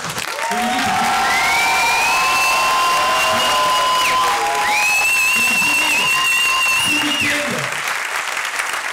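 An audience at an improv match applauds the evening's referee, Dominique: dense, sustained clapping and cheering fill the whole stretch, loud and close, with a voice calling out over it.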